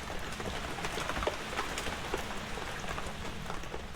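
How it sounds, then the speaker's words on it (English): Steady rain drums on the roof of a farmhouse in the video game Phasmophobia, a dense even hiss with scattered soft drop ticks, continuous and moderately quiet with no one speaking. "It's so loud in here when it's raining."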